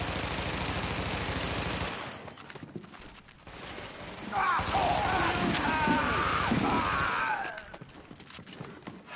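Gunfire in The Division video game comes as rapid rattling bursts alongside game effects, loud and continuous across most of the clip with a short lull in the middle, and voices shouting over it.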